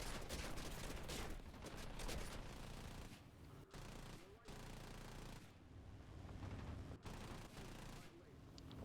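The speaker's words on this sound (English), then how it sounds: "Now each country's machine guns have a specific sound." Rapid bursts of machine-gun fire and explosions from the combat flight game War Thunder, loud and dense through the first few seconds, then continuing as a steadier, slightly softer rattle with rumbling impacts.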